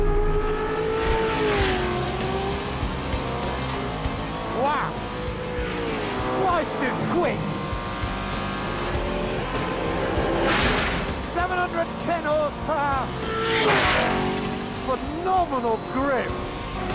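A Brabham car with a 5.4-litre V8 engine and pneumatic paddle shift driving hard, its engine note rising and falling through repeated revs and gear changes, loud and close, with a voice talking over it at times.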